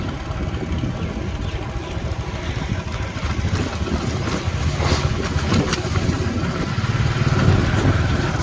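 A motorcycle engine runs steadily at close range in a village setting, a loud, even putter with a slight rise near the end, with no clear separate kick-start.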